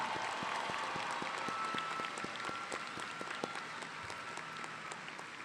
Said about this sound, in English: let's give them another round of applause to thank them for their service